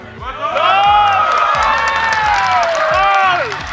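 Shouting from an audience at a lively religious sermon, a sustained crowd of excited voices and cheers filling the space, loud and continuous with rising and falling cries.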